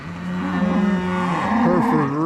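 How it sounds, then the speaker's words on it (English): Cattle, including a Hereford and black white-faced cows, moo repeatedly as they are let out of a pen, several loud, drawn-out calls overlapping close by. "We're gonna see if we can slowly start letting some of these cows out of here."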